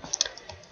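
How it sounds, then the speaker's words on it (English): Typing on a computer keyboard while writing a blog comment: a short burst of a few light, close clicks, quick and irregular, with no talking. "you're going to be typing a little bit more than what I'm typing here"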